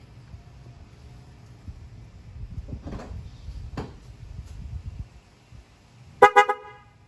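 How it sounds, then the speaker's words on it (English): After some low rumbling and a couple of clunks, the repaired horn of a 2006 first-generation Toyota Sequoia gives a short double honk, loud and close. "we had the issue with the horn not working"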